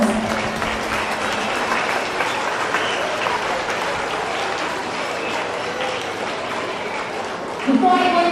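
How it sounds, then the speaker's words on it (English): Sustained audience applause for Senator Razia Ahmed at an anti-bullying campaign launch, a steady roomful of clapping lasting the whole stretch, with a brief voice and a louder burst near the end. "Let's give her a round of applause."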